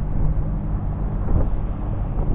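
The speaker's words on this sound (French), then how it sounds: "Là, on fait du 5 nœuds avec le moteur." Low, steady drone of a sailboat's engine motoring at about five knots toward Port Joinville on Île d'Yeu, mixed with wind and water rush, continuous and close.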